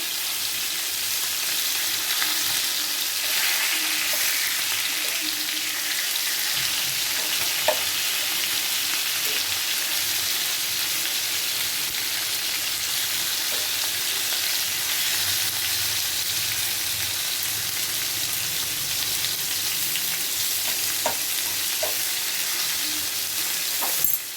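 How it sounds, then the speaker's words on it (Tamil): Pieces of chicken sizzle steadily in a hot pan alongside another side, a continuous broadband frying hiss with occasional faint stirring taps, no voices. "சிக்கனும் இன்னொரு சைடும் நல்லா வெந்துக்கிட்டு இருக்குது"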